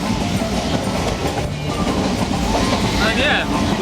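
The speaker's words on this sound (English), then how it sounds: "I'm now off on a train to see if we can find some seats." Steady loud rumble and rattle of a moving passenger train in India heard from on board, continuous clatter throughout, with faint voices in the carriage.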